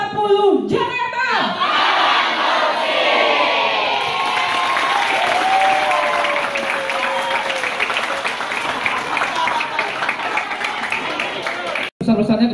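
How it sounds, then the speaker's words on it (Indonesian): An audience at an anti-corruption talk at SMK Negeri 40 Jakarta applauding and cheering for a guest speaker, a steady loud wave of clapping and shouts that runs the whole time, briefly cut near the end. "Sekali lagi tepuk buat Bu Isti"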